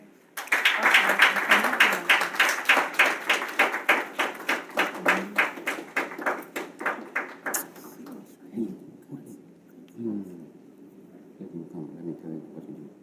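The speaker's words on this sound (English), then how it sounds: "Please help me with a round of applause to now invite to the podium" Audience applause at a donors' conference, sustained rhythmic clapping in unison that stays strong for about seven seconds and then fades, with voices speaking afterward.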